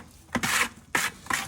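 A margin trowel mixing tile grout by hand in a bucket for a backsplash, giving three short gritty scraping strokes in a loose rhythm, close and fairly quiet.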